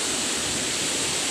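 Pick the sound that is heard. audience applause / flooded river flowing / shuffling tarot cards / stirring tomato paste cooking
flooded river flowing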